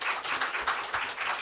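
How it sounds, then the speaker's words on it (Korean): Brief burst of congregation applause in a church during a Sunday worship service, a steady wash of many hands clapping together at moderate volume with no voice over it. "우리 귀한 말씀 전해주는 목사님 그 감사의 박수 한번 드립니다."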